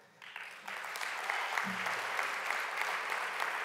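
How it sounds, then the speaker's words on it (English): Applause from an audience at a political talk, a steady wash of clapping that swells in after a brief lull and holds fairly loud throughout, with a faint low tone briefly underneath. "Definitely deserving of applause"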